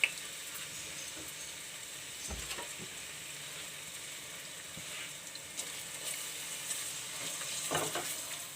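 Two medium onions frying in half a cup of oil in a pot, a soft steady sizzle close by with a few faint stirring scrapes, no talking.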